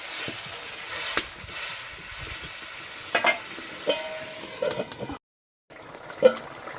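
Pumpkin curry simmering in a covered pan after water is added, a soft steady sizzle and bubbling with a few light clinks of a utensil, then a brief silence before the quiet cooking resumes.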